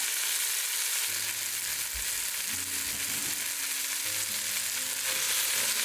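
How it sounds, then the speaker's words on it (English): Onions fry with sausage meat in a pan, a constant close sizzle with occasional soft scraping and stirring underneath, no one speaking. "add your onions"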